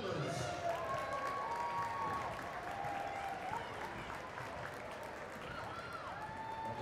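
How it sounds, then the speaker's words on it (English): Crowd applause and cheering at a high school basketball game for cheer camp members, sustained clapping in a gym under an announcer's voice and a tonal PA sound. "Give it up for your cheer camp members."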